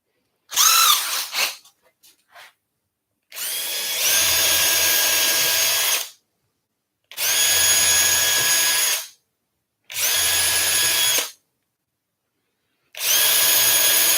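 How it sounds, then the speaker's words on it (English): Power drill boring through wood while building an Adirondack chair, running in four long, loud bursts of a few seconds each, separated by short pauses, after some brief handling clatter at the start. "Let's take our drill out there."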